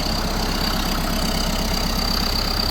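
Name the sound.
Kubota L1501 turf tractor diesel engine idling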